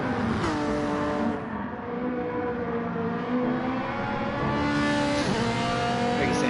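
Race car engines from a racing video game at the Red Bull Ring, several cars running side by side with steady high revving drones that rise and fall in pitch throughout, loud and continuous.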